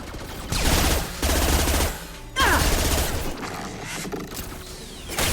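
Gunfire from a weapon in the Mass Effect 2 game, with dense bursts of rapid shots in several loud stretches, mixed with mechanical clanks and game effects and some talk.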